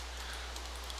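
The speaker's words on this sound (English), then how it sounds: "I'll wait until it's not raining, though." Steady rain falling in the video game Minecraft, a soft continuous hiss of drops spread evenly through the whole moment, faint and unbroken with no voices over it.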